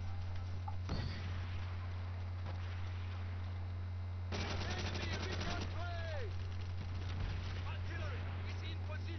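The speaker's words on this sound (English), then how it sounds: "Alright, Tommy gun. This is good." Tommy gun firing in Call of Duty: World at War team deathmatch, rapid bursts of automatic fire over a constant low engine-like hum, with someone talking over parts of it.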